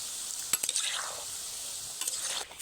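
Pieces of madan katkati dough fry together in oil with a steady sizzling hiss, while a utensil stirs them and gives a few sharp scraping clicks. No one speaks.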